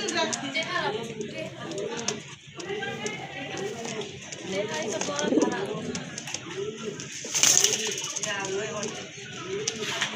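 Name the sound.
pigeons cooing at a farm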